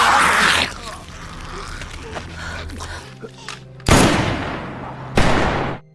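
Handgun fired inside an apartment during a zombie outbreak: a loud sharp shot at the start, then two more sharp reports a second or so apart near the end, with faint clatter and voice-like sounds in between.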